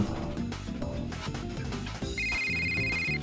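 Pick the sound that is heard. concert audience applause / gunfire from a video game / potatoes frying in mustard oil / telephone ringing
telephone ringing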